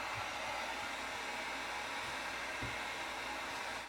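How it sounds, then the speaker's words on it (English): A heat gun blows a steady, close, loud airy roar while smoothing the tops of candles from a candle-making kit, holding evenly for several seconds with no talking. "I will get my heat gun and go ahead and smooth out the tops."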